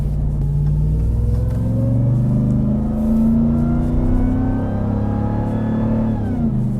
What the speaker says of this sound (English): You can really hear that supercharger whine.